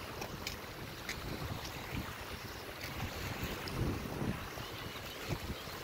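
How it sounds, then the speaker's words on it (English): Wind gusts buffet the microphone on a walk beside the bay at Newcastle, Delaware, a steady low rumble with faint water sounds underneath and no speech. "That wind's starting to pick up."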